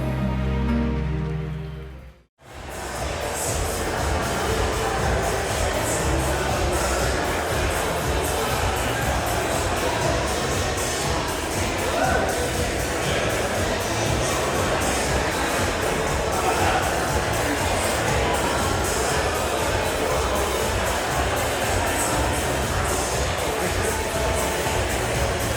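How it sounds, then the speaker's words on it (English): A wedding reception crowd breaks into sustained applause and cheering after a brief moment of quiet, with dense clapping continuing loudly and evenly throughout. "a big round of applause"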